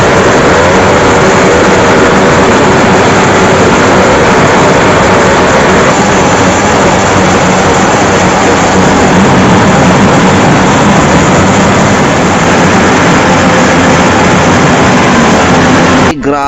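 Loud, continuous roar of motorcycle engines revving at a New Year motor show in Malasiqui, Pangasinan, a dense unbroken wall of engine noise that fills the whole stretch and cuts off abruptly at the end.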